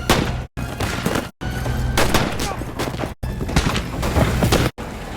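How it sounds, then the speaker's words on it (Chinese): Machine-gun fire rattles in dense, loud bursts during a shootout in a 1920s Western drama, separated by brief sharp silences, with no voices. "这时班纳出现在身后，他手持一挺机枪，呐喊着雅各布达顿的名字朝他们开枪射击，瞬间击中了雅各布和约翰。"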